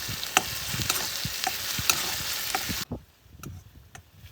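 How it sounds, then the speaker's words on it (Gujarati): Onion, ginger and garlic sizzle in hot ghee in a kadhai for a dahi tikhari tempering, a loud steady frying hiss broken by stirring scrapes and clinks, cut short partway into quieter spoon knocks. "હવે ડુંગળી નાખી, બધો વઘાર, આદુ લસણ બધું નાખી મસ્તીનો વઘાર કરી નાખ્યો"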